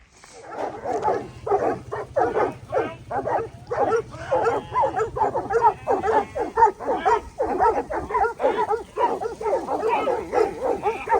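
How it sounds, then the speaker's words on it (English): Several dogs near a hiking-trail campsite bark, yip and whimper in rapid, overlapping bursts that continue for the whole stretch, close and fairly loud, with a low steady hum under the first half. "Very cute doggos."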